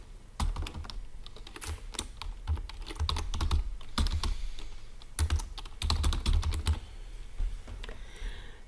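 Quick bursts of typing on a computer keyboard, clicking keys in uneven clusters with short pauses between runs, close and clear with no talking.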